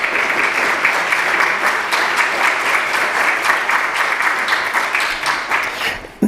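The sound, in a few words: congregation applause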